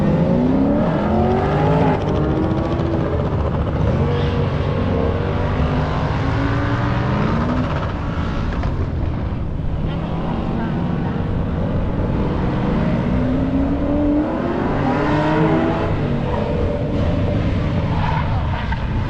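A Monte Carlo and a Miata racing at an autocross event at Beech Bend Raceway Park, with continuous loud engine roar rising and falling through gear changes and revving, heard from nearby throughout without talk.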